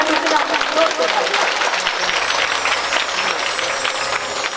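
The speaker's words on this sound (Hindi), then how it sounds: "जोरदार तालियां हमारी माता के लिए" Village audience at a Bhagavat Katha religious gathering breaking into loud, sustained applause, a dense rattling wash of many hands clapping close by with some crowd noise.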